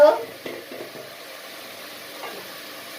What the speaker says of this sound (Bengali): হলুদ দিলে এখন দেখো মশলাটা কষাচ্ছে।